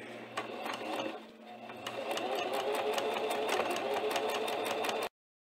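A home sewing machine runs in steady rapid stitching bursts, briefly pausing near the start before resuming continuously at close range until it stops abruptly.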